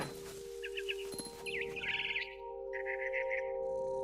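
A bird in What Remains of Edith Finch chirps in short, quick bursts of tweets against a steady game hum, close and clear, with a few small clicks early on.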